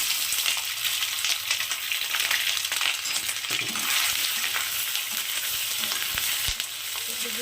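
Semolina balls frying in hot oil with curry leaves, a dense, continuous close sizzle with occasional small clicks and knocks from the pan, no talking.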